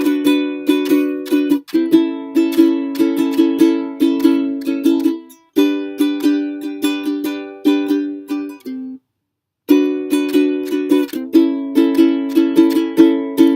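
Ukulele strummed through the second chorus of a song, played alone with steady rhythmic strokes and bright chords, one brief pause partway through and another short gap near the end.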